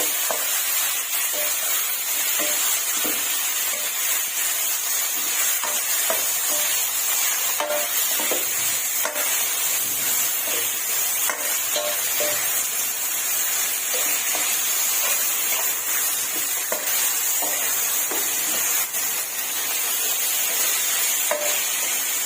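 Pork cartilage stir-frying with lemongrass in a pan gives a steady, dense sizzle that runs throughout, with faint scrapes and clinks of stirring scattered across it.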